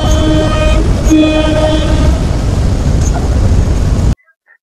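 A local train from Dhaka to Gazipur rumbles loudly and steadily, wheels and carriage noise filling the space with a tonal horn-like whine in places, before cutting off abruptly near the end.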